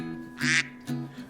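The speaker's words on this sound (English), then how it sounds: "ducks say quack, quack, quack" A cartoon duck gives a few bright, nasal quacks, close and clear, with short gaps between them and a low musical backing underneath.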